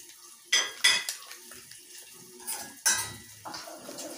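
A cooking pan struck and scraped by a utensil in a home kitchen, with several distinct clanks and scrapes spread unevenly over a few seconds, close by with light background noise.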